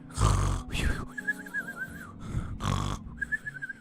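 A voice imitates snoring with a few rough, snorting breaths, broken by whistly tones, close and fairly loud.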